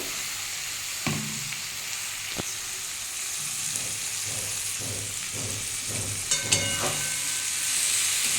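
Boiled taro stolons fry in a pan with a steady, close sizzle, while a spoon scrapes and stirs them in repeated strokes and a few sharp clinks stand out.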